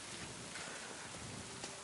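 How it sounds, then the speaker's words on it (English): Rain falls in the medieval game Kingdom Come: Deliverance 2, a quiet, steady hiss of drops on surfaces that continues evenly with no break and no voices. "So the rain effects are a bit shitty"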